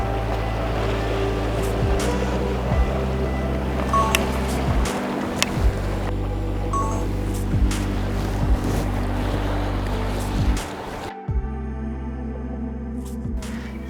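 A boat engine drones steadily near the shore off Mallorca while small waves wash and wind blows, the hum dropping out briefly near the end before resuming.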